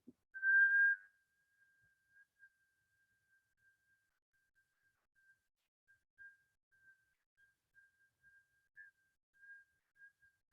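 A short, clear whistle sounds on an outward breath, then a thin, faint whistle tone wavers on and off in near silence.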